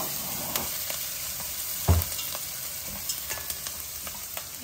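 Onions frying for a Telangana-style mutton curry, a steady close sizzle with a few stirring clacks, including a louder knock near the middle.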